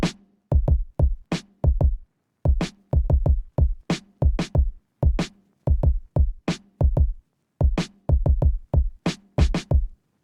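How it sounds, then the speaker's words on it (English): Programmed kick and snare drum pattern in FL Studio: punchy, evenly spaced electronic hits looping in a steady groove, loud and dry, with no voice. "First I did a regular kick and snare pattern."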